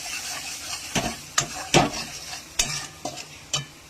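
Spices and chili powder being stir-fried in a pan: a soft background sizzle broken by several sharp scraping and clinking strokes of a spatula against the metal, irregularly spaced and close.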